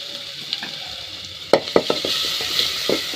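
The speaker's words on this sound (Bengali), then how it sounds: "সর্ষের তেলটা দিলাম হাঁড়িতে, এরপর দুটো শুকনো লঙ্কা দিয়ে দিচ্ছি, একটুখানি রসুন দিয়ে দিচ্ছি থেতো করা।" Dried red chillies and crushed garlic dropped into hot mustard oil in a pot, giving a soft sizzle with several sharp crackles and pops near the middle.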